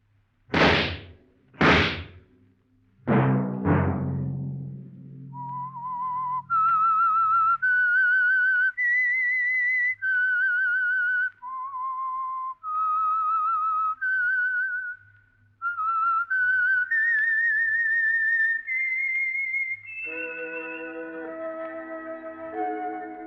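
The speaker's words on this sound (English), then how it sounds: "Let that whistle be your signal" Sharp knocks open the clip, followed by a clear, close whistled melody of sustained notes that ends on a rich chord-like tone.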